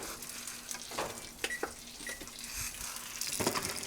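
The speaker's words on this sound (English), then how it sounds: "Can you hear that sizzle?" A freshly baked stromboli sizzles just out of the oven, a soft, crackling hiss with scattered pops and clicks up close, steady and fairly quiet.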